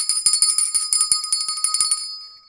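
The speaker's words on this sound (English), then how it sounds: "I rang that bell." A small bell rung on a live stream during a LEGO Koenigsegg Jesko building session gives a fast run of bright, ringing strikes, loud and close, that fade out over about two seconds.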